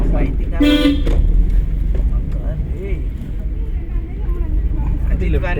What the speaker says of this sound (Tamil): ஆரன் கேட்டுச்சா?